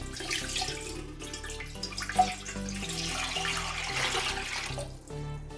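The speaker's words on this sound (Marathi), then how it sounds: "त्याच्यामध्ये हे दीड पातीले पाणी आपल्याला टाकून द्यायचं आहे" Water pours steadily into a pot for several seconds, a continuous rushing splash with a faint tonal hum in the background.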